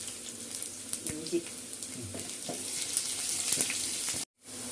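Mustard seeds and garlic fry in oil for a nutmeg pickle, giving a soft, crackling sizzle with scattered pops and a few utensil clinks, fairly quiet, with a brief dropout near the end.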